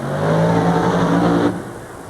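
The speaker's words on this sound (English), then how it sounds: "Their expensive aluminum V8 engines gulp an expensive mixture of alcohol and nitroglycerin" A top fuel dragster's aluminum V8, burning an alcohol and nitro mixture, blasts a loud, close, throaty rev for about a second and a half before cutting off sharply.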